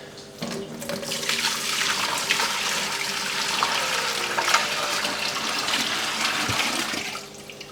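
Aquarium water holding ember tetras is poured into a container, a continuous close splashing and gurgling stream that stays steady for several seconds and then stops, with no talk.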